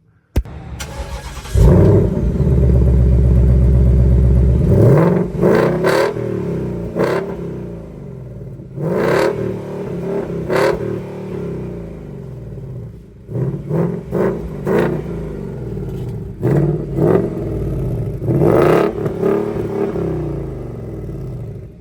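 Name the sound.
Ford S550 Mustang engine with X-pipe exhaust, starting and revving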